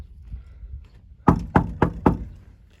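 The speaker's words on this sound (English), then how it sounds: "should we knock on the door?" Four sharp knocks on a door at a desert movie set outside Beijing, loud and close, in a quick uneven rhythm after a moment of quiet background.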